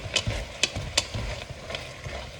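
Onions for French onion soup cooking down in a pot, stirred with a few distinct scraping strokes over a low, steady sizzle, close and moderately loud.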